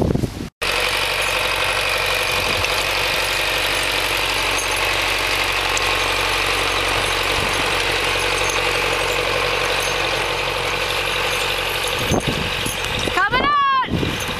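A tractor engine runs steadily at idle during planting time, producing a continuous loud rumble with mechanical vibration, and a short whir or squeal near the end.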